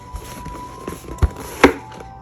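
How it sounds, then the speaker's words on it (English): A ROCCAT keyboard is pulled from its cardboard box in a few soft, scattered handling knocks and rustles, with two sharper thumps partway through, close by and with no talking. "Pulling it out of the box."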